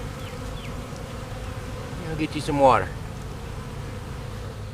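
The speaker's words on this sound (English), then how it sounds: "Those bees love to be down here in that water" Honey bees buzz while drinking at rain-filled water in the afternoon, a steady insect drone with one louder buzz passing close by midway, under a man's brief speech and a soft outdoor background.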